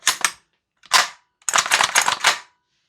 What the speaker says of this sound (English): let's just do another dry fire test, see what happens